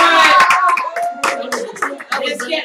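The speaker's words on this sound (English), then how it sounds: "you get a clap for that" Hands clap in quick bursts in a live radio studio, loud and close, mixed with overlapping voices.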